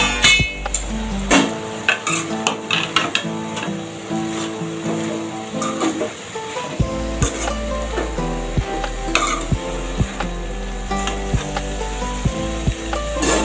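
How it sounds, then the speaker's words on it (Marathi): A pan lid lifts off and a spoon repeatedly scrapes and clinks as vegetables are stirred and sizzle in oil, with loud metallic taps and knocks over a steady frying hiss. "आता झाकण उघडून परत परतवून घ्यायची।"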